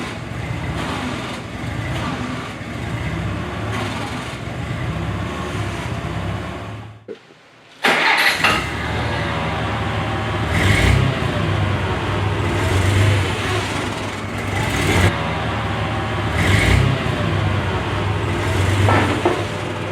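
A machine's engine at an auction setup stops briefly, restarts and settles into a steady, loud running idle with occasional surges in revs, close by, with no talk over it.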